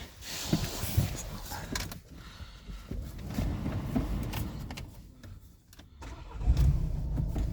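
A 2019 Opel Vivaro van with a 1.6 diesel engine cranks and fires up, a short starter whir followed by a rougher idle building near the end, close up and fairly loud.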